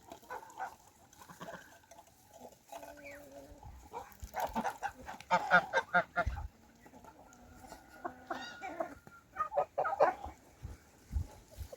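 Domestic geese in a barn with grain feed, giving repeated honks and cackles that come in close bursts throughout, mixed with other poultry calls.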